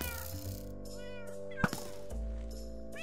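A Minecraft cat meows several times in short, clear game-sound calls, separated by a sharp thunk, over a steady background game tone.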